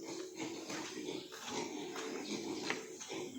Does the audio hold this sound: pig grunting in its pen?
yes